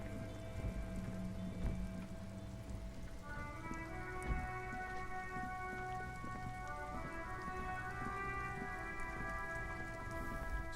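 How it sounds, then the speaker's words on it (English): Steady rain falls throughout a scene in the video game Disco Elysium, a dense, continuous patter under a low droning ambient music bed. "Stuck in the rain in a traffic jam"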